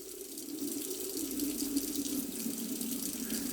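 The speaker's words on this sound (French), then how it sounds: "j'ajoute un tout petit peu d'eau" A small amount of water poured onto tomato seeds in a transparent container, a steady trickling splash held close and continuous throughout.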